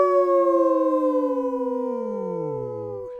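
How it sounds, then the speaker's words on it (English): A spoiler howl sound effect: a single long, loud wailing tone that slowly slides downward, heard alone. "Spoiler howl?"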